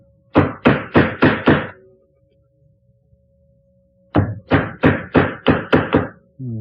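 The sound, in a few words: chisel struck into wood for a Windsor chair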